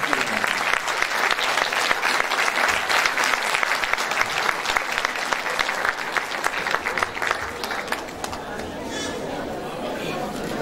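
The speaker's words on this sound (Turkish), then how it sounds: "Şimdi koromuzu alkışlarınızla size sunmak istiyorum." An audience applauds a folk music choir at a spring concert, sustained dense clapping from a large crowd that gradually thins and softens toward the end, with some chatter mixed in.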